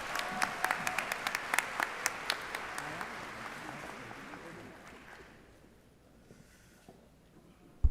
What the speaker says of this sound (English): Let's give another round of applause for the entering class of 2024.